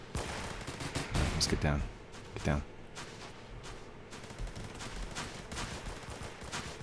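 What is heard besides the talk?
gunfire from the video game Roblox Phantom Forces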